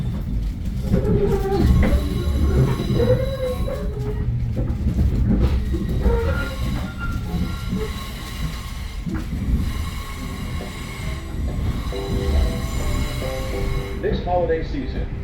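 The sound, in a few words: Metro North commuter train running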